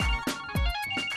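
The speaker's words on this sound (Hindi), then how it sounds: "फोन आ गया।" A phone ringtone plays loud and near in a Hindi TV comedy scene, its tone pulsing in a repeating pattern with a short gap between rings.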